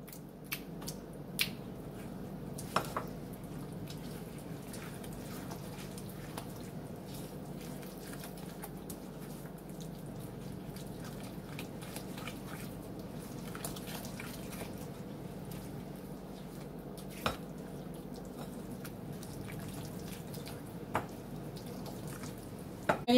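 Crushed pineapple being stirred together with other ingredients in a bowl, soft wet squishing and faint scattered drips and taps over a low steady background, close and quiet throughout.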